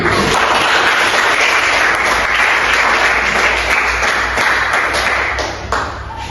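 A classroom group gives a discussion group a steady round of applause, dense continuous clapping from many hands that carries on evenly and eases slightly at the end.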